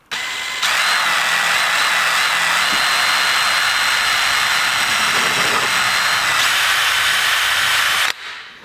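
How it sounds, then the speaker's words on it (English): A power drill whirs at a steady high pitch for about seven seconds, pre-drilling a hole, close and loud, starting abruptly and cutting off sharply. "Pre-drill, and then I've got a little black self-tapper."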